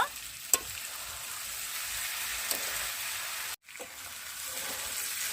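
Cauliflower and eggs with turmeric fry in a pan for a home-style curry, a steady broadband sizzle with a couple of faint utensil taps and a brief drop-out midway.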